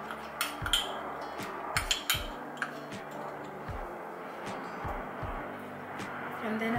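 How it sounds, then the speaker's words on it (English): A ceramic dish is set into an oven with a series of sharp clinks and knocks, several hard taps spread over a few seconds against a quiet background, with a voice talking faintly. "I'm gonna put this in the oven."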